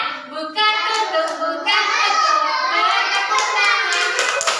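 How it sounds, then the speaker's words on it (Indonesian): Children clapping hands during a clapping song in a classroom, steady claps blended with kids' voices singing along throughout. "Buka tutup, bertepuk tangan."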